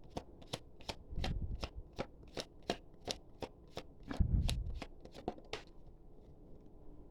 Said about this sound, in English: Let's go ahead and pull your next oracle card and see what else we have here.